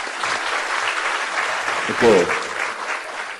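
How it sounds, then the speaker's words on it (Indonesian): An audience applauds for Pak Kiflan at a gathering, a steady, full round of clapping with a short spoken word over it. "tepuk tangan untuk beliau."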